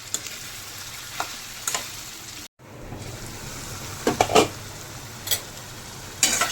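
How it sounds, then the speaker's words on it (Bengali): Potatoes and spices stir-fry in oil in a pan with a steady, close sizzle, broken by scattered scraping clicks of a stirring utensil and a brief dropout midway. "এবার ভালো করে মশলা আর আলু কষিয়ে নেব।"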